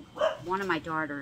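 A dog barks and yips in short bursts close by, overlapping someone talking during an unboxing of jewelry.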